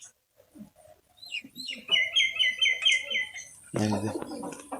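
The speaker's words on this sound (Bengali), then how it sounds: "কিছু ঘুঘু পাখি এই দেখেন সাদা ঘুঘু" White doves at a farm give short chirps and a run of repeated high whistling calls, fairly close, with brief pauses between them and a louder burst of calling near the end.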